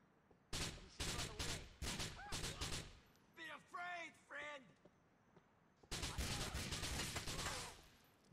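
Bursts of gunfire in the video game GTA 4, rapid volleys of shots in clusters with short gaps, loud and close, with a voice talking over part of it.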